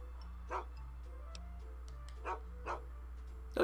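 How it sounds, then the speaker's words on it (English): A dog barks in Fallout 3's Tranquility Lane, a few separate short yips spaced across a quiet stretch over a steady low hum, with no talk. "I like that doggy."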